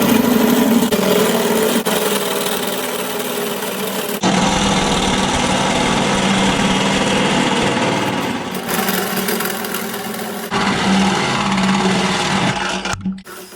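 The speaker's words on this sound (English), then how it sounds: "I'm going to drill my hole now. This is a 44mm hole" A loud, steady power drill grinds continuously through the metal body of a Toyota HiAce van, boring a 44mm hole, with brief pauses and restarts, the motor whining close by.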